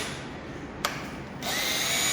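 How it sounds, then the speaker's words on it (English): A power drill runs steadily at high speed while fitted with a drill bit, a continuous whine that jumps in pitch after a brief click partway through, sounding close and fairly loud throughout. "You can see how fast I can drill,"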